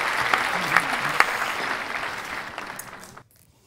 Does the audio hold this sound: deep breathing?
no